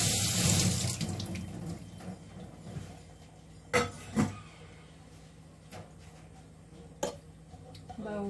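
A kitchen tap runs while dinner is cooked, starting as a loud rush of water and then cutting off, followed by a few sharp knocks and clicks under quiet speech.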